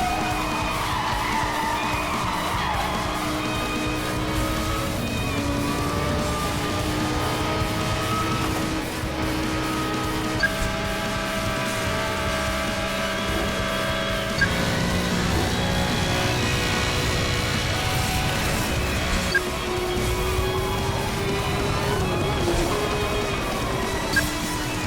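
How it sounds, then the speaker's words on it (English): Car engines in Need for Speed Hot Pursuit 2010, a loud continuous roar with sustained tonal whines that shift pitch as gears change, layered with screeching tires and a constant gritty rush of road noise. "the car sounds are really great since it all sounded so differently, yet very powerful and sensory overload"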